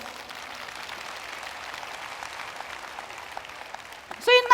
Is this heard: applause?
yes